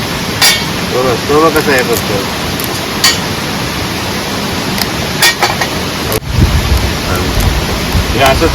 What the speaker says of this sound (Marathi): पाऊस पण जास्त आहे